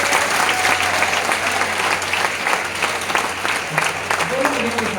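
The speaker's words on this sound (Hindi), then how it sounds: "जोरदार ताली बजाओ।" A crowd claps loudly and steadily, the applause filling the whole stretch at close range, with voices talking over it.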